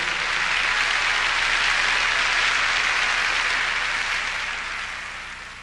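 A church congregation breaks into sustained applause, praising the Lord during a Portuguese-language sermon, a dense continuous wash of many hands clapping at once that holds steady and then gradually fades toward the end.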